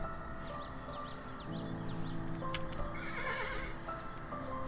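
Horse neighing and galloping in the side-scrolling strategy game Kingdom Two Crowns: steady clip-clop hoofbeats run throughout, with a whinny rising mid-clip over soft game music and ambient chirps.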